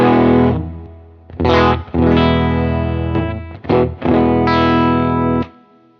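Electric guitar played through a UAD Enigmatic '82 Overdrive amplifier with its distortion blended into the clean tone, loud sustained chords and notes cut by short pauses, rich in harmonics with a chorused shimmer.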